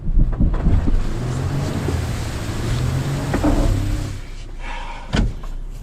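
Rough off-road scene with a 2019 Toyota 4Runner TRD Pro stuck in dirt, wheels spinning: a steady loud low rumble of engine and churning tires with wind buffeting, a short surge near the end.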